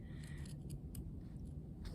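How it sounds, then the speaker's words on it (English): Sharp scissors snip through felt fabric with a few quiet, crisp cuts close by, with no talking. "It's important to have sharp scissors when you're cutting out fabric"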